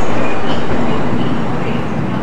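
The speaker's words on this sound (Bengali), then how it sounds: "8:35-এর ট্রেন 9:05-এ ছাড়লো" The Garib Rath Express, running from Kolkata to Puri, pulls out of the station with a loud, close, continuous rumble and roar of rolling wheels and carriages.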